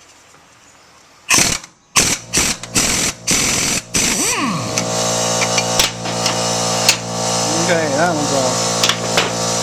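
Bolts being tapped out of a Ferrari 348's suspension with an 8mm Allen wrench: a quick run of sharp metallic knocks early on, then a ringing metallic tone with a brief voice comment over steady workshop background.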